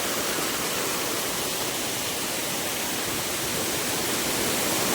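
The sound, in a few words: waterfall at Dapoli, gushing water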